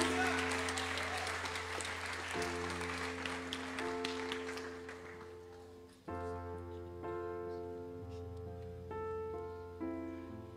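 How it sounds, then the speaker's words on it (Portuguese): Church congregation clapping in praise during a Portuguese-language sermon, a burst of applause over sustained organ or keyboard chords that fades after a few seconds while the music carries on. "Aplaude a Deus aí, aleluia!"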